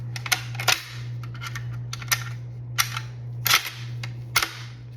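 A rifle bolt is worked by hand with a spent, unprimed casing in the push-feed action, giving a series of crisp metallic clicks and clacks in uneven bursts over a steady low mechanical hum.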